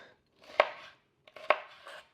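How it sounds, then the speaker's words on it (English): Knife slicing leeks on a cutting board for potato and leek soup: two sharp, close strokes about a second apart, each a crisp cut with a short scraping tail, in a quiet kitchen. "thinly slice them"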